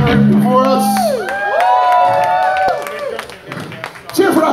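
A punk rock show crowd in a basement venue in Erie cheers and whoops loudly, with shrill whistles and shouts rising over clapping, and voices calling out through the din.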